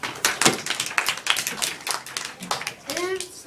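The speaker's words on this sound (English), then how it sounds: "round of applause" Applause from a small audience after a classroom-style presentation, a burst of clapping hands lasting a few seconds, close and fairly loud, with brief voices mixed in near the end.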